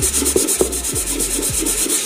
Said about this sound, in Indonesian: Nah jadi kita amplas seperti ini ya.